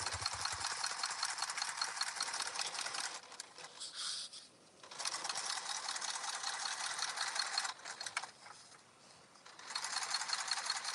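A sewing machine top stitching a bag, steady rapid whirring runs of needle stitching with two short pauses, close and continuous without speech.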